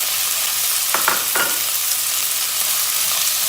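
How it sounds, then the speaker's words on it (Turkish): Loud, steady sizzling of meat for Turkish forest kebab frying in a hot pot, with a few brief scraping stirs near the start. "Tenceremiz ısındı, etimizi içine döküyoruz."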